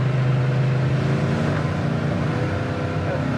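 A 1971 Chevelle SS V8 pulling in third gear on the road, a loud, steady engine roar with a low rumble throughout, close and without talk.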